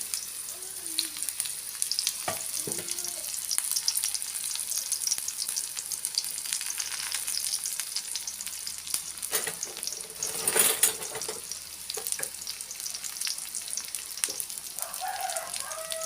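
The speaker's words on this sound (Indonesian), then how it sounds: "ini minyaknya sudah panas dan aku menumis bumbunya yang sudah aku iris ya, bawang merah dan bawang putih" Sliced shallots and garlic sauté in hot oil for a sayur asem, giving a steady, close sizzle with a few stirring clatters and a louder burst near the middle. A rooster crows faintly in the background.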